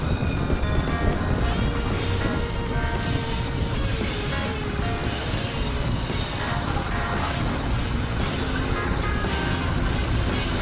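A BMW G310 motorcycle being ridden, its engine droning steadily and loudly with wind rush for the whole stretch, heard alone.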